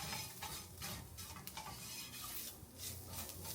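Spices stirred into a sizzling pan of food, a steady scraping and stirring under a constant frying hiss, with no talking.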